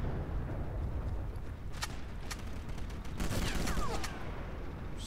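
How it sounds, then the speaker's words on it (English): Gunfire from the Sniper Elite video game sounds as a dense volley of cracking shots over steady background noise. The bursts cluster in the middle and latter part and stay fairly distant and muffled. "Stop shooting at me."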